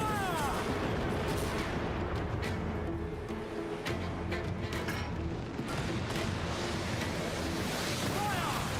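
Ship cannons fire in a naval video game battle, a dense rumbling roar of repeated booms layered over wind and crashing sea, loud and continuous throughout.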